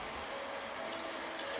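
Water splashes into an emptied sauce jar for a short, steady pour, a continuous close-up trickle and fill with no voices.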